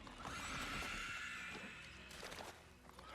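Horses in a film scene at an Elvish river whinny and neigh amid splashing hooves and clatter, fairly loud at first, then rougher bursts and thumps toward the end.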